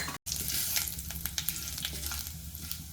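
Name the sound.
mustard seeds, urad dal and cumin spluttering in hot oil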